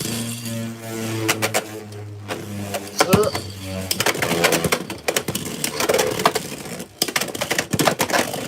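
Beyblade spinning tops, including Hell's Hammer, launched into a stadium and clashing, giving loud rattling clicks and scraping impacts with sharp bursts, a low tonal hum at the start, and faint voices in the background.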